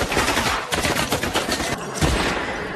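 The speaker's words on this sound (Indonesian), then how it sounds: "mereka langsung menembakkan senjatanya masing-masing" Gunfire in a film shootout from Peaky Blinders, dense bursts of shots and rattling fire overlapping in a loud, continuous barrage with brief dips, close and harsh throughout.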